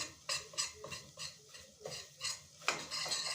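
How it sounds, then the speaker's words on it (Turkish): Flour and tomato paste roasting together in a pot while a spoon stirs them. Close, rhythmic scraping strokes repeat steadily, with faint sizzling underneath and no voices. "Unla birlikte salçayı da kavuruyorum"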